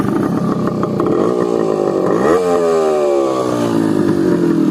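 Motorcycle engine running with its exhaust silencer and dB killer removed, a loud, raw, continuous roar that rises in pitch as the rider accelerates during a top-speed run, with no talk over it.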